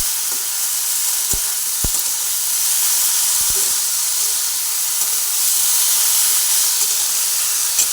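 Eggplant and potatoes frying in oil give a loud, steady hiss and sizzle throughout, with a few faint clicks of a utensil.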